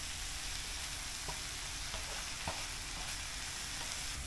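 Smoked fish hash frying to a golden brown in a pan over a butane burner, a steady close sizzle with a few soft stirring clicks and taps, no talking.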